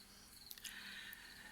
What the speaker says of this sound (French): de cette soirée fraîche au son des grillons, tout à côté